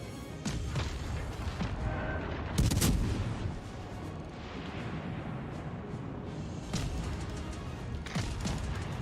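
Naval guns fire in a ship combat game, heavy booming salvos and thuds over a dense rumbling battle bed, with one especially strong blast standing out among repeated shots.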